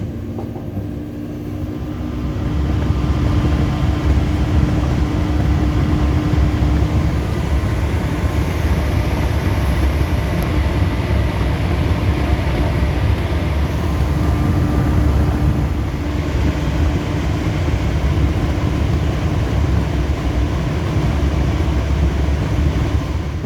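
A moving train rumbles steadily with a low, loud, continuous roar and faint rhythmic rail clatter, heard from on board during a day trip in Staffordshire.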